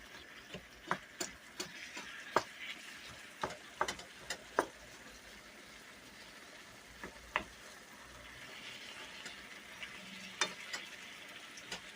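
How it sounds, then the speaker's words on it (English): Onions cooking in a pan for lamb-stuffed bell peppers, a low continuous sizzle with a string of sharp ticks and clinks from stirring, busier in the first half and sparser later, with no one talking. "I got a few more onions I'm going to put in this. And let's let those onions cook around."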